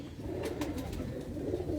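Prized pigeons kept by a Lahore fancier coo in soft, low, murmuring phrases that carry on steadily through the whole moment, close by, with faint rustling above.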